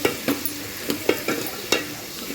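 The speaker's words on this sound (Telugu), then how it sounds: "టమాటో వేసాను." Radish curry with turmeric and freshly added tomatoes frying in a pan, a close, even sizzle punctuated by regular scraping and tapping strokes of a ladle stirring about every third of a second.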